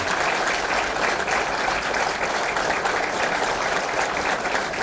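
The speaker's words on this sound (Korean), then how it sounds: "이의가 없으시므로 박수로 만장일치로 선택해 주시기 바랍니다" At a political party's founding assembly, a large audience applauds in unanimous approval, giving a loud, dense, unbroken roll of clapping that fills the whole stretch.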